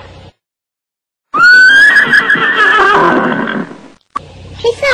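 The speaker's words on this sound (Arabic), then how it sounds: "حصان." A loud, close horse whinnies in one long, wavering neigh of about three seconds, with short quiet gaps before and after.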